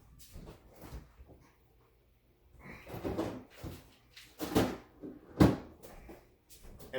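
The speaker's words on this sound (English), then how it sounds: "and put it in the fridge. I put it in the meat drawer." A refrigerator meat drawer is opened and closed with a few loose thumps and slides. Then a sharper clunk comes as home-made maple mesquite bacon is packed away.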